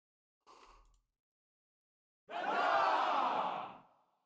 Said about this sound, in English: crowd noises